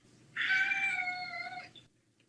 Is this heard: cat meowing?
yes